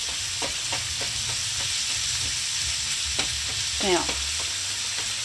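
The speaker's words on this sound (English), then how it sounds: "So, I'm just going to break up the meat." Ground beef sizzles steadily in a hot pan for hamburger macaroni, with a utensil scraping and breaking it up in a few distinct strokes, fairly quiet and close, with one short spoken word.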